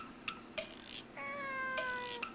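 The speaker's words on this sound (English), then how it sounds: "A kitty." A cat meows several times in short, fairly quiet calls, one drawn-out meow in the middle and brief chirps around it, in the visual novel game If My Heart Had Wings.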